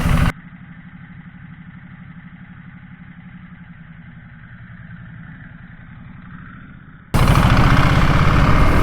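Ducati Multistrada motorcycle engine idling steadily and close by for about seven seconds, a low, even throb with no revving, framed by brief louder bursts of sound at the very start and end.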